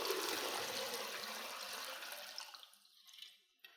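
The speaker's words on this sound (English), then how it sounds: "fill your vessel with flower food already mixed in the water" Water with flower food mixed in is poured into a rattan urn, a steady splashing stream that tapers off into a few trickles and drips, close by and fairly quiet, with no talking.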